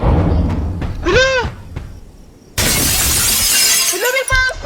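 Loud glass shattering with a bright crash, amid game sounds and excited voices talking in the background.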